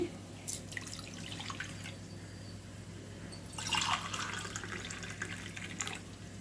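Water pours from a cup into soaked basmati rice in a pot while making raw jackfruit biryani, a soft, steady trickle and splash close by that rises briefly in the middle.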